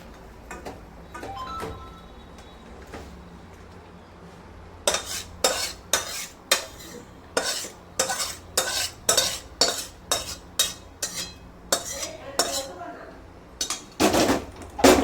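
Prawns cook in a pan for prawn malai curry while a utensil knocks and scrapes against the pan in a quick, regular rhythm of sharp clacks, after a quieter stretch at the start.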